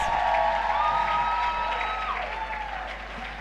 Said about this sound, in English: Keep clapping until you get to their seats.